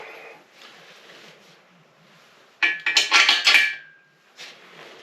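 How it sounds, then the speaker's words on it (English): Metal clanks as an oil pan is fitted onto a 1930 Ford engine: faint handling at first, then a close burst of several ringing clatters and knocks, and one last short clank after a pause. "let's go ahead and get this thing flipped over, and we'll get the oil pan put on"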